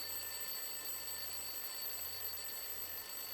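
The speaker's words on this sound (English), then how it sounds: "Why would someone throw away a perfectly good alarm clock?" An alarm clock in the video game Lost Horizon rings steadily and continuously, a bright electronic tone sustained without pause and heard alone.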